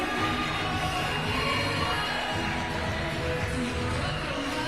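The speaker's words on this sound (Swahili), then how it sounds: "Please put your hands together, ladies and gentlemen, for John Karanja." A crowd at a lifetime achievement award ceremony applauds and cheers for the honoree, a dense continuous wash of clapping and voices that holds steady throughout.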